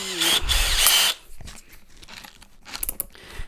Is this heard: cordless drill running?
yes